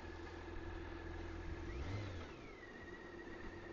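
A car passes at moderate distance in a quiet French valley, engine swelling to a brief peak and fading away, alone with no talk.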